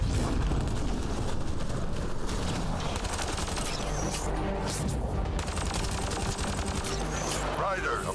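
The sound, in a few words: gunfire from a video game, shooting at Kett enemies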